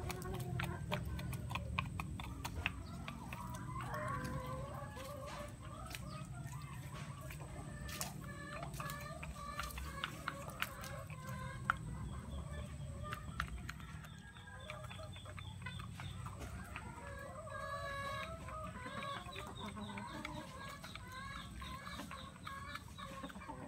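Native chickens and turkeys cluck and peck while feeding outdoors, with many overlapping soft clucks, scattered louder calls and sharp pecking clicks, close and continuous throughout.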